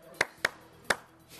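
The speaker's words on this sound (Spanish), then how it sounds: "¿Quieres palmas? Yo toco palmas." Three sharp palmas hand claps on a Spanish television show, two close together and then a third after a short pause, crisp against a quiet background.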